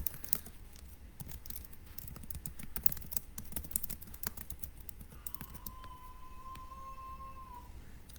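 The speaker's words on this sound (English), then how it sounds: "So I'm just typing it up right now" Quick, irregular key clicks on a computer keyboard, fairly faint and close, with a soft tonal hum rising in the background toward the end.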